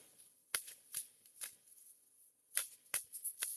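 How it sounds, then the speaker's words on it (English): A deck of angel cards is shuffled close up in a quiet room, a series of soft, crisp riffling bursts at an uneven rhythm. "So let's shuffle the angel cards."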